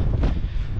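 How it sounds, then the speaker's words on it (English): Strong wind buffets the microphone in low, rumbling gusts, loud and close throughout the short moment, at the Mach Loop as light fades. "It's quite windy"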